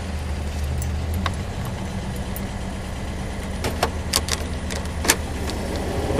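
A 1962 Dodge Dart 330 engine idles steadily just after starting, a low, even running rumble with a few light metallic clicks and jingles on top.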